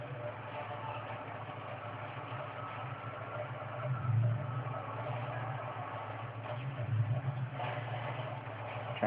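Humvee in a military shooter video game, a steady low engine drone idling and rolling along at moderate level, with a slight swell midway and no talk over it.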